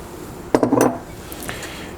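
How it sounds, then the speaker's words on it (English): A spoon clinks and scrapes against a bowl for about half a second as liquid is stirred into aebleskiver batter, close and fairly loud, followed by a faint tap. "And stir it up."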